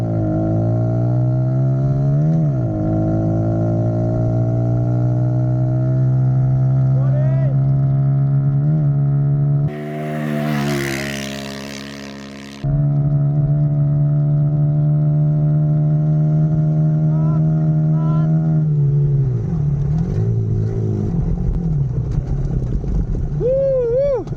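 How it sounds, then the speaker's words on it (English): Stock Kawasaki KLX 110 dirt bike held at high revs during a top speed run, a loud steady engine drone that dips briefly at about ten seconds with a burst of wind noise, then pulls hard again. "Let's do some top speed testing of the stock KLX 110."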